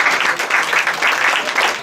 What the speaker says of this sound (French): On peut continuer les applaudissements.